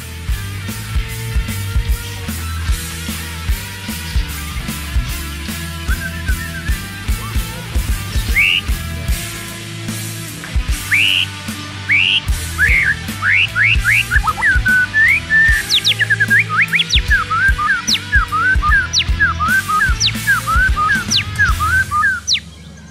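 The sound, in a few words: songbird singing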